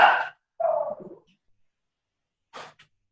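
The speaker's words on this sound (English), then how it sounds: "That's where the dog's coming from." A dog barks in the background of an online meeting: two short barks close together, then a brief pause and one more quick bark, with no talk over them.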